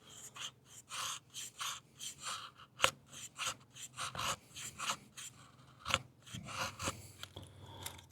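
A machete shaves fire curls from a piece of seasoned almond wood in a quick series of faint, close scraping strokes, about a dozen rhythmic cuts with brief pauses between them.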